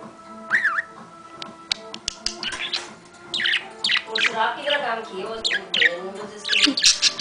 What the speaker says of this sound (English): my crazy bird